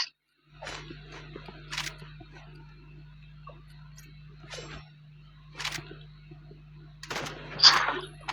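Sniper rifle shots in the video game Rivals, several sharp bursts spaced a second or more apart against a low hum, with a person talking quietly between them.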